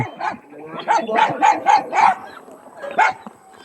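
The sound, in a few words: dogs barking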